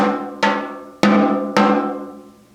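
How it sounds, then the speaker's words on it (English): Four separate taps on a snare drum at an uneven pace, each with a sharp attack and a ringing decay, every hit sounding slightly different. "you're not hitting the drum head in the same spot all the time"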